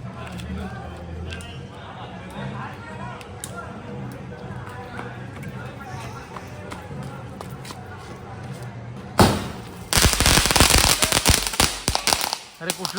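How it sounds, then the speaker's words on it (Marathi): Firecrackers and fireworks are set off during a Konkan Holi bonfire celebration, a few sharp pops first, then a loud, dense burst of rapid crackling bangs near the end, with people talking throughout. "फटाक्यांची आतिषबाजी करतायत"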